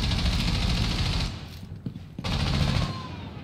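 Sustained rapid gunfire in the video game Rainbow Six Siege, dense and loud, breaking briefly into a short lull with a couple of single shots before the firing resumes.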